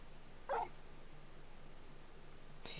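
Torgal, a wolf pup in Final Fantasy XVI, gives a single short, faint whimper over a quiet background hum, followed by silence and a soft rise of noise at the end.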